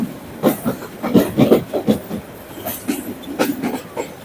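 The Dhaka–Chattogram mail train clatters through Laksam junction station on a cold day. Its wheels beat out a loud, uneven run of clacks over the rails.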